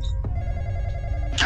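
A telephone rings in a horror-style video game, with one short ring near the start followed by a bright, louder ring at the end over a low background hum.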